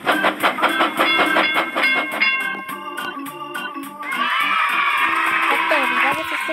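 Loud rhythmic train clatter with bright, tonal horn-like notes layered over it, steady and continuous, in a synthetic style from the video game Labo Brick Train.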